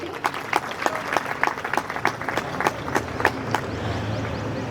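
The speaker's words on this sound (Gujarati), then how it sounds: "આપણે સૌ એક વખત તાળીઓથી વધાવી દઈએ." Audience applause at a university Gandhi fair event, dense steady clapping from many hands filling the hall, with sharper individual claps standing out, continuing without talk.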